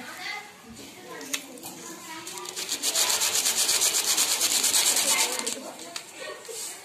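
Grains of rice rubbed against paper in a simple fat test, a steady scratchy friction that swells louder for a few seconds in the middle and then eases off, heard close up.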